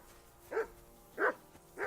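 Dog barking in Kingdom Come: Deliverance 2, three short, evenly spaced barks from a fairly close dog over a quiet background.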